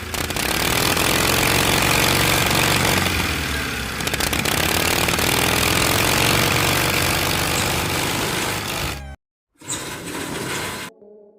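A Harley-Davidson V-twin motorcycle engine runs loud and close with a dense, rumbling roar. It holds steady, then cuts out briefly near the end before starting again.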